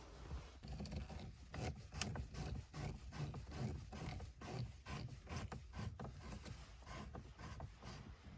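Faint, close ratcheting clicks from a screwdriver turning out the head unit screws in a 2025 Hyundai i30N, coming in quick repeated bursts with small mechanical rattles between turns.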